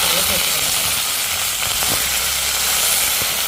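Onions frying in oil in a pan for a fish curry, giving a steady, loud, dense sizzle that runs unbroken throughout, with a few faint clicks and stirring noises underneath.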